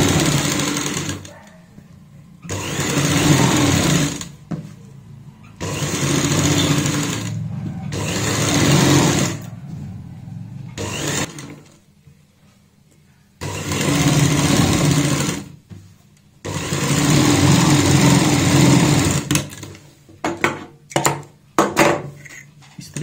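A sewing machine runs in repeated loud bursts of several seconds each, separated by short pauses, while it stitches along the outer edge of a neck piping on a garment, finishing with a few quick short runs.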